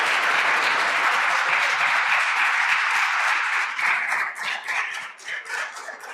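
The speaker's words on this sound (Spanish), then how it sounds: "le podemos dar un aplauso que nos ha ayudado tanto." Audience applause at a Lenten talk on the Easter Triduum, a full steady round of clapping that thins out toward the end into scattered individual claps.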